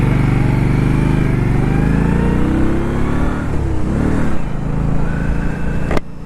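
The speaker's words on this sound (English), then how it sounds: "The exhaust note is very nice. Not quite as deep and loud as a larger bike like the Indian Chief Dark Horse." An Indian Scout 60 motorcycle engine and exhaust runs loud and steady as the bike is ridden, the engine note rising and dipping slightly around the middle, with no voices over it.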